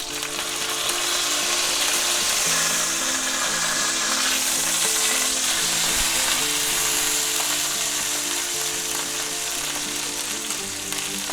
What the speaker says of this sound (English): Let's go ahead and sear our edges.